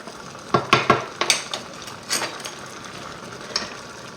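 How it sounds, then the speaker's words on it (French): A utensil clinks and scrapes against a pan as chicken pieces in coconut milk curry are turned, giving a handful of sharp close metallic knocks in a quick cluster, then softer scattered taps with a faint simmer underneath. "on va retourner notre viande"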